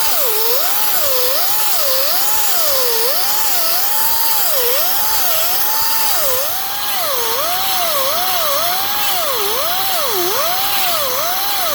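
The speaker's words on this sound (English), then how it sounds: "So back to grinding." A power grinder works steadily on a hand-made wooden buck, its loud whining tone rising and falling continuously as the tool is pushed and eased across the wood, with no talk.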